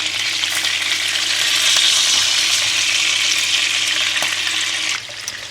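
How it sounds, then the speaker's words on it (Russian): Duck breast frying in a pan, flipped to cook on the other side, with a loud, steady hiss and sizzle that drops slightly near the end. "Мы переворачиваем на другую сторону. Еще 5 минут жарим с другой стороны."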